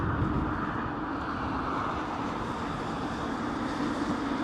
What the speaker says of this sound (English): listen to that GE90 whirring away, man